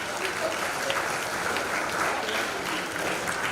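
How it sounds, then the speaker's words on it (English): An audience at a tech community event applauds a speaker with steady, moderately loud clapping that fills the room evenly from start to finish. "Please clap for her."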